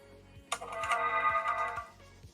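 A telephone ringtone sounds briefly in a FortressCraft Evolved livestream session, a bright electronic ring lasting about a second and a half over quiet background ticking.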